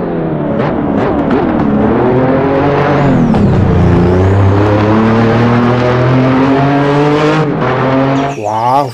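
Toy race car sounds play loudly and continuously, with a revving, accelerating engine tone that rises and falls throughout, ending in a short sharp burst.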